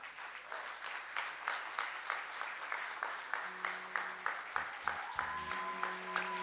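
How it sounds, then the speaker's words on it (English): An audience applauds at an energy conference plenary session, rhythmic unified clapping beating steadily throughout. A sustained tone and some faint background noise appear under the claps in the second half. "Let's give them a round of applause again."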